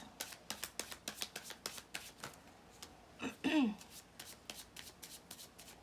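Tarot cards shuffled by hand, a quiet, rapid series of crisp riffling flicks in a steady rhythm, with a brief louder rustle midway as a card is drawn.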